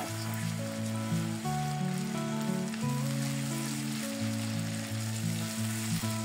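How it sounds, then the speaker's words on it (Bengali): Ginger and garlic paste frying with onions in a hot pan, a dense continuous sizzle and crackle close up, steady throughout with no voices. "আমি আদা রসুনটা একটু ভাজবো 30 সেকেন্ডের মতো পেঁয়াজের সাথে।"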